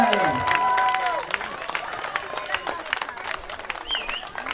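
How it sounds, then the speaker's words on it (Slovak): Spectators applaud and cheer at a cycle trial championship event, a burst of clapping fading into scattered claps under a commentator's voice. "takže obrovský potlesk pre Sama Hlavatého."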